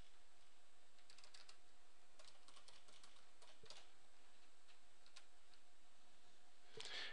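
Password typed on a computer keyboard while setting up a Geocaching.com account: sparse bursts of soft, close key clicks spread across several seconds, with a brighter cluster of taps near the end.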